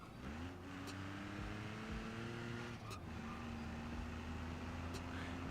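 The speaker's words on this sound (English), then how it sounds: "It doesn't sound like a normal petrol engine, so I will probably give it to them that this does sound a little bit diesel-y." Diesel-like engine from a modded video game vehicle, droning steadily with stepped pitch changes as it revs through gears, moderately loud and continuous with no talk over it.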